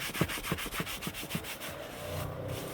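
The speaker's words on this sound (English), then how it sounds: "So I'm just going to wipe off the soot" A cloth rubs soot off a hot cast-iron Dutch oven just lifted from a fire, with quick rhythmic wiping strokes, about ten close scrubbing passes before it settles.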